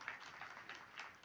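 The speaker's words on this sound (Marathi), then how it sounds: "एकदा त्या मुलींसाठी जोरदार टाळ्या वाजवा." Faint applause from an audience at a kirtan, clapping for young girls, a soft steady patter of many hands that swells slightly in short waves across the moment.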